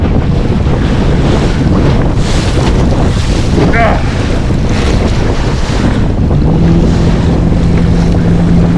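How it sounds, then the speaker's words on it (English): Strong wind roars across the microphone on a boat on open water while salmon fishing near shore, with waves and splashing mixed into the constant rushing noise. "Wouldn't be so bad if the wind wasn't blowing."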